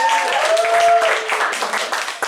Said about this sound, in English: Please make a round of applause for Alden Skeeter's.